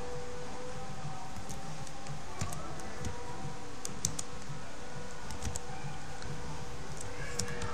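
Scattered soft clicks come from typing on a computer keyboard, with light irregular keystrokes spaced over a constant low background hum.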